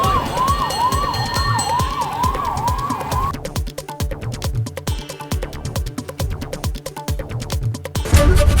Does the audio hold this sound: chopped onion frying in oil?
no